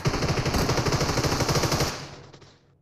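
Rapid automatic Uzi fire in a multiplayer shooter game, a loud sustained burst of closely spaced shots for about two seconds that then cuts off and fades into a short echoing tail.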